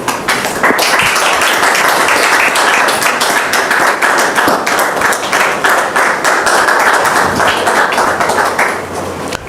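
Dense, sustained applause from a studio audience greeting a guest, Dame Doriane, on a French-language talk show, loud and steady clapping throughout with a slight tail-off at the end.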